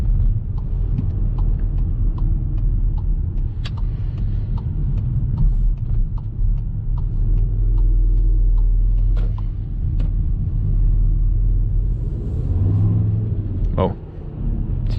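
A 2019 Škoda Kodiaq RS SUV cruises slowly on the road with a deep, steady engine drone and constant tyre rumble from inside the cabin, while a driver talks over it and a brief swell of revs lifts near the end.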